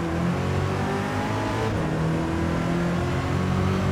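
A Ferrari race car in Gran Turismo 7 on the Sarthe circuit, its engine screaming loud and steady at high revs throughout, with dense harmonic whine and no talk over it.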